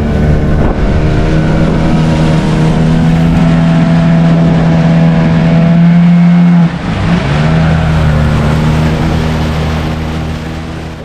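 Motorboat engine droning steadily and loudly on a lake in Ziro Valley, Arunachal Pradesh, with a sustained hum, wind buffeting the microphone, and a brief dip in engine tone partway through before it resumes.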